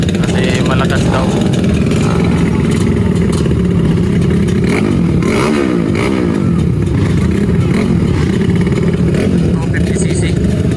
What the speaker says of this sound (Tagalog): Yung motor ni brother kasi malakas daw.